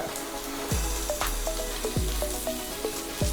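Chopped ginger and garlic drop into onions already frying in a pan, setting off a steady close sizzle with a few sharp clatters of ingredients landing and stirring.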